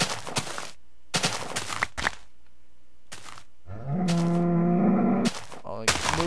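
A Minecraft cow gives one long, low, drawn-out moo in the middle, set between sharp, short bursts of other game sounds and brief silences.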